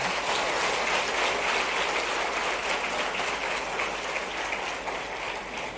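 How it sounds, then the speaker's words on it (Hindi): A large crowd of schoolchildren and guests at a government scholarship event in Bhopal claps steadily in a continuous, even wash of applause heard from a distance, with no break across the whole stretch. "जरा जोरदार ताली दोनों के लिए बजा दो"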